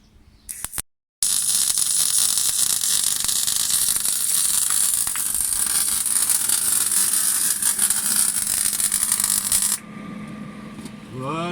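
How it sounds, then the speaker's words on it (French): Welding on a stainless steel exhaust for a Volvo 240 gives a loud, steady hiss and crackle that holds for about eight seconds, then cuts off abruptly. "Là, Quentin est en train de souder le reste."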